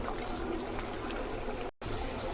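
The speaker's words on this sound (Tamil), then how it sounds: "முட்டை ஊற்றிக்கலாம்." Beaten eggs pour into a pan that holds a little water, a steady close trickling, liquid wash that runs evenly with one brief cut-out near the end and no talking.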